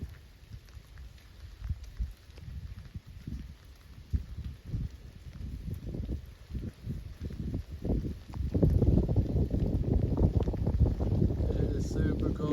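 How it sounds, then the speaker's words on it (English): Cold wind gusting over a mountain top beside a side trail off the Appalachian Trail, a steady rushing roar buffeting the microphone that swells louder and denser in the second half. "It is super cold and windy"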